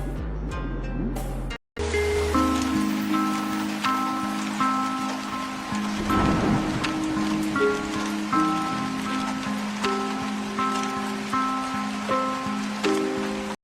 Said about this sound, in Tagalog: Lakas na buhos ng ulan.